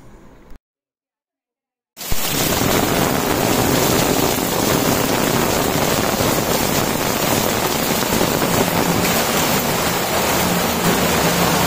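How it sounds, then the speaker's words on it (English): Heavy monsoon rain pours steadily on Ganesh Chaturthi day in Komba, Margao, Goa, a dense, continuous roar of water on surfaces close by that starts suddenly after a brief silence and holds evenly to the end. "Chaturthi day, heavy rains in Goa"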